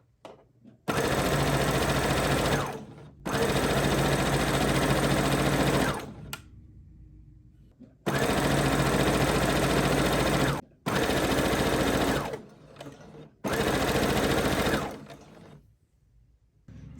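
A sewing machine stitches fabric skirt strings in four long, loud bursts of steady whirring, with short pauses and quieter gaps between runs and no talking.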